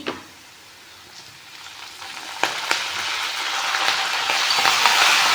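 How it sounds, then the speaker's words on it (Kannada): Curry leaves dropped into hot oil sizzle and crackle up close, the hiss swelling steadily louder with a few sharp pops, with no voices over it. "ಇದಕ್ಕೆ ಸ್ವಲ್ಪ ಕರಿಬೇವಿನ ಸೊಪ್ಪು ಹಾಕ್ಕೊತಾ ಇದ್ದೀನಿ."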